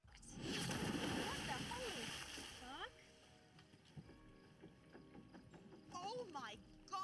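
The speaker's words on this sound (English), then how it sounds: "out of the sky, something drops into the pool right beside them" A large object falls into a swimming pool in a cosmic horror comedy film and lands with a loud, close splash. Water sloshes and spatters afterwards while voices call out over it.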